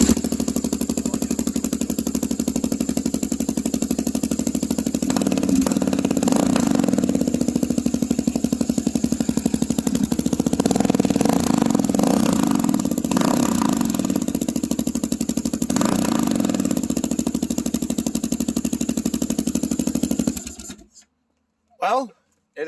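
A 2022 Kawasaki KLR motorcycle with a Delkevic aftermarket exhaust idles loud and close for about twenty seconds in a steady, rough thrum, then cuts off, with a brief blip just after.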